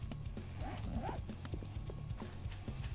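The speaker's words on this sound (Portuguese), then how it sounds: "Cavalo!" Horse neighing with steady hoof clip-clop in the 7 Days to Die video game, a couple of whinnies over a continuous low rhythmic game background.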